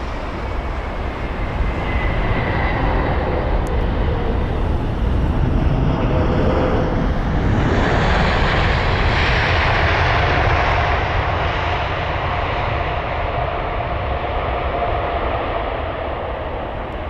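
An aircraft from Abu Dhabi lands at London Heathrow. A loud, sustained jet roar sweeps past nearby, swelling and shifting midway as the plane passes, then stays a heavy rushing rumble.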